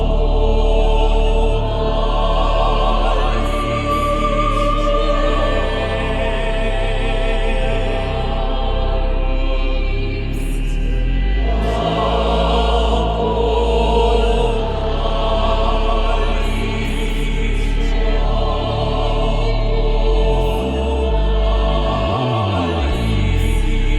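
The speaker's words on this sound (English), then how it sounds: "So the baritone, the bass, both sopranos and the tenor all combined." A virtual choir patch with baritone, bass, two sopranos and tenor sings together in a full, powerful sustained chord progression, dense and loud throughout, with a low synth bass beneath.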